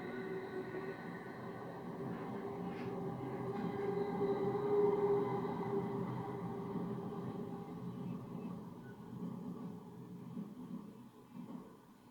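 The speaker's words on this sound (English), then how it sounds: "Sorry about the train." A train passes at a distance behind a quiet indoor setting, its low rumble swelling toward the middle and fading away over about twelve seconds, with faint rail squeal and no talking.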